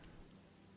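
Steady rainfall in the video game Oblivion, a soft continuous patter with no pauses, faint and even throughout.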